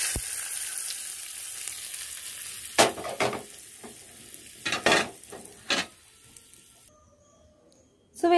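Coconut oil tempering poured over bitter gourd aviyal crackles and sizzles steadily, with several sharper bursts of spattering and a few light clatters of a pan or ladle, ending in a brief loud hiss.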